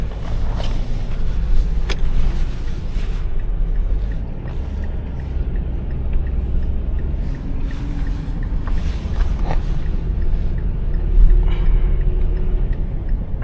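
A Ram 2500 pickup truck with a flat front tire moving out, steady low engine rumble and road noise throughout, close and fairly loud, without talk.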